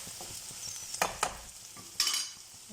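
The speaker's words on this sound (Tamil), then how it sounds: "அதுக்குள்ளேயே ஆனியன் ஃப்ரை ஆகட்டும்." Onions frying in a pan while cooking a Tamil vendakkai puli kuzhambu, a low steady sizzle with a few sharp spoon scrapes around one second and a louder stirring burst near two seconds, close and without voices.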